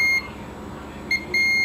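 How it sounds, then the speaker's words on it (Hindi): A multimeter on continuity test gives short electronic beeps while probing the charging circuit of a Samsung phone under repair, with a brief beep near the start and two more toward the end, fairly faint and alone. "ये बीप दे रही है।"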